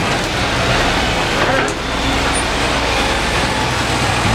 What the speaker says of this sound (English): you have heavy vehicles going in and out of here